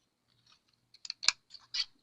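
Scissors cut through a greeting card in a quick run of crisp, close snips, one sharper cut standing out midway, with near silence around them.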